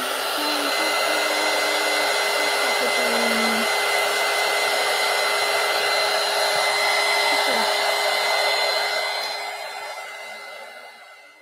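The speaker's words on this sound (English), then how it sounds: "I need the heat gun." A heat gun blows steadily while drying paint on an art journal page, a loud, even whooshing roar with a high whine that continues for about ten seconds before tapering off.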